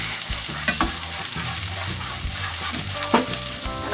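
Chopped onion frying in a pan and being stirred, with a steady close sizzle and repeated scraping strokes of the spoon through the whole stretch; no voices.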